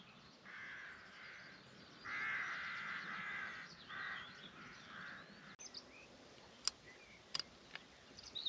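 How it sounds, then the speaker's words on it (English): Several crows caw repeatedly in loud, harsh bursts near decoys set over a second-cut field, with scattered single calls and faint clicks as the calling thins out. "there are crows dropping in the decoys before you've even got in the hide"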